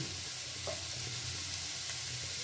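Vegetables frying in a pan for a home-style sabzi dal, a steady soft sizzle with faint stirring scrapes running throughout, no voices.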